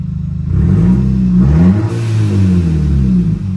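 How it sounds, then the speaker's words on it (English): A Subaru Forester with an STI engine and new 44mm external wastegate revs loudly and close, the exhaust note climbing and dipping in a rough, throaty drone that holds steady throughout. "Exhaust noises now."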